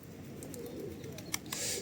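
A pigeon coos softly in an outdoor street setting, with a few faint clicks and a brief hissy burst near the end over a low steady background.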